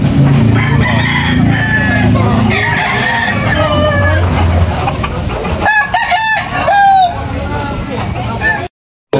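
Roosters crow and hens cluck at a gamefowl market in Tabunok, Talisay, Cebu, with loud overlapping crows close by over a busy, noisy background.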